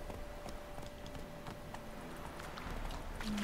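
A horse is ridden in The Witcher 3, its hooves beating in a steady, rhythmic clip-clop that stays faint beneath the game's ambient background noise.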